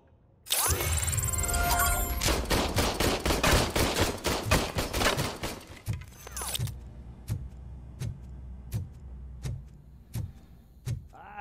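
Gunfire in the video game RoboCop: Rogue City: a loud rapid automatic burst with shattering for several seconds, then slower single shots spaced about a second apart that fade in loudness.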